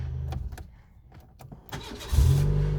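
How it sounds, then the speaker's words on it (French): Renault Mégane 1 phase 2 with AL4 automatic gearbox, starter motor whirring briefly before the engine catches at about two seconds and settles into a loud, close idle. "ça démarre. Boîte automatique, position P, sans appuyer sur le frein."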